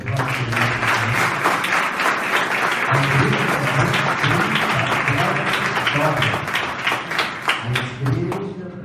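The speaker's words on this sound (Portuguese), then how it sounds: "Podemos dar uma salva de palmas para o Senhor?" A church congregation at a workers' consecration service bursts into sustained applause, many hands clapping densely and evenly for several seconds before thinning out toward the end, with voices and a low musical hum underneath.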